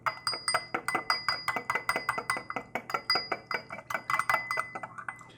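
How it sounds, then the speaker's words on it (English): A spoon clinks steadily against a bowl while oil-free glazed green beans are tossed and mixed, a quick even rhythm of light taps, close and fairly quiet. "you literally just got to mix it all up"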